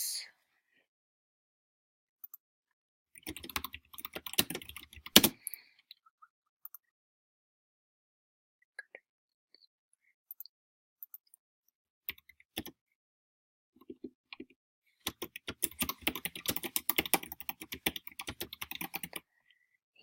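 Bursts of typing on a computer keyboard while writing notes, quiet, close clicks in scattered clusters with long silent gaps, a denser run of keystrokes near the end.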